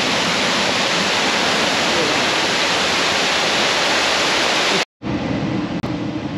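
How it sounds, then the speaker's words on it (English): A man-made waterfall at a beach pool area pours with a loud, close, continuous roar. It cuts out briefly near the end, then resumes slightly thinner. "I wanted to show you this waterfall. It's a really cool waterfall, man-made, but it's really neat."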